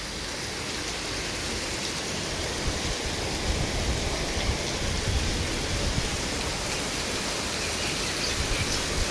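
Heavy rain pours in a continuous, dense hiss, a steady broadband wash, with no voices.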